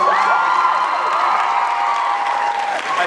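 Dense, steady applause from a convention panel audience at Dragon Con 2017, with cheers and whoops mixed in, loud and sustained throughout.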